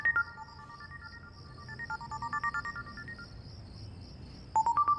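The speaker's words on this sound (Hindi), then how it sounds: "इस वक्त किसका फोन आ रहा है तुम्हें बार बार?" A phone rings with a repeating electronic melody at moderate volume indoors, pausing for a while before the ringtone starts again.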